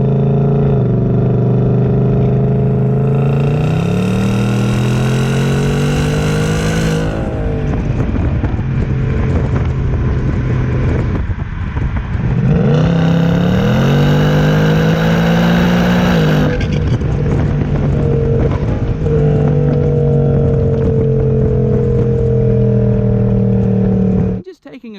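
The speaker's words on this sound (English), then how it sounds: "in case you want to know what it sounds like, here is an exhaust clip." A 2019 Ford Mustang GT Premium's V8 exhaust roars loudly and close, climbing through revs in two long pulls with gear-change dips between, then rumbling steadily at speed before cutting off abruptly at the end.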